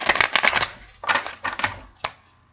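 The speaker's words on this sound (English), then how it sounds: "I'm just going to give them an additional shuffle" Rider-Waite tarot cards are shuffled in several quick, crisp riffling bursts, close and fairly soft, ending with a single tap as the deck settles.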